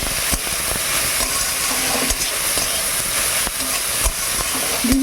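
Greens sizzling in a hot pan with poppy seeds, a steady broadband hiss of frying running throughout with a few faint clicks and stirring knocks, no talking.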